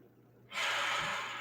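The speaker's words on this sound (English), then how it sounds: "Breathe into this. About 3 to 5 breaths will be sufficient." A sharp inhale during a yoga stretch on a wheel, a single breath that begins abruptly halfway through and holds as a soft breathy hiss, close and quiet.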